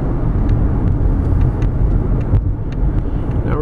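A 2017 Toyota Highlander XLE AWD SUV accelerates hard, a steady low engine and road rumble heard from inside the cabin, loud and continuous without talk.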